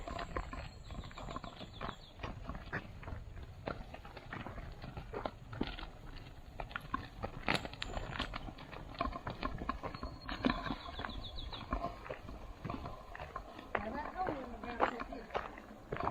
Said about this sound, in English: Just out walking our cows. Out for a little stroll.